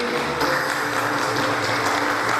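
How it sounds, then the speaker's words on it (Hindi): Audience applause welcoming speakers onto a stage, a steady dense wash of clapping from a crowd lasting throughout, fairly even in loudness. "जोरदार तालियों से स्वागत कीजिए."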